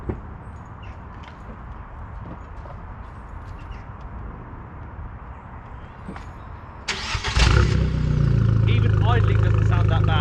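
A 170 bhp Abarth 595 fires up abruptly after a stretch of quiet outdoor background, then settles into a loud, steady, rumbling idle held close by for the remaining seconds.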